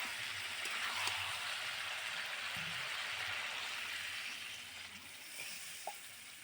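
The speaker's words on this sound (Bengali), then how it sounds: "কষানো হয়ে গেছে এবার আমি জল দিয়ে দেবো" A steady, close sizzle of country rooster curry frying in a pan as water is added, with a broad hissing wash throughout and a few soft stirring taps, no voices.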